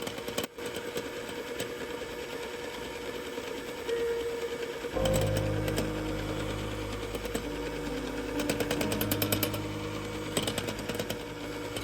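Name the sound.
electric mixer beating egg yolks and sugar at medium-high speed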